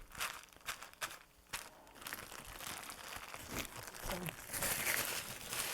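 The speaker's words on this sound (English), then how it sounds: "Crinkled tissue paper, and Josh is grimacing because of the noise." Tissue paper being crinkled over a fluid acrylic painting surface, giving a series of dry rustling, crackling bursts that build to denser, louder crumpling toward the end, close up and with no talking.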